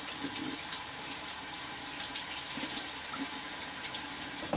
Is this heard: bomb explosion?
no